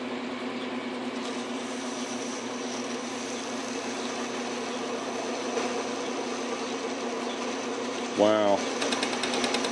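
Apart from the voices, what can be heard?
South Bend lathe cutting a pulley, chattering as the tool rides up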